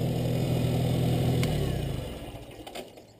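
A White Demonstrator Cub tractor fitted with a Cub 189 two-way plow runs with a steady, fairly loud engine drone close by, then winds down and fades over the final second as it is shut off.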